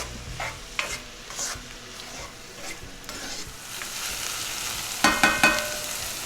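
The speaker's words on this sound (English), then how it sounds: "Make sure you saute the onions for about at least 10 to 15 minutes until they get nice golden brown" Onions and tomatoes sauteing in a pan for a shrimp masala curry gravy, a steady sizzle with scattered stirring scrapes and a cluster of sharper utensil clinks near the end.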